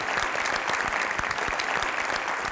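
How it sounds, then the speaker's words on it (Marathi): A crowd at a public rural-development gathering in Maharashtra breaks into sustained, fairly loud applause, with many individual claps standing out in a steady rhythm and no speech over it. "जोरदार टाळ्या त्यांच्या, जोरदार"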